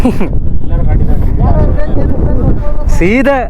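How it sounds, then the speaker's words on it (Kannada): Strong wind buffets the microphone in a steady low roar, with people's voices talking over it throughout. "ಗಾಳಿ ನೋಡ್ರಿ ಹೆಂಗ್ ಹೊಡಿತೈತೆ"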